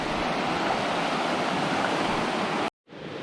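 Water of the Sulphur River near Grande Cache rushes and splashes in a loud, steady wash close by, cutting off abruptly near the end before resuming.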